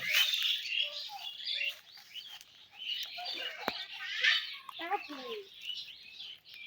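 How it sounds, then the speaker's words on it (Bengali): Young pigeons in a new coop, giving close, repeated high chirping and squeaking calls in short irregular bursts with brief pauses between them. "নতুন খোয়ারে আর কবুতর ভরে রাখলাম"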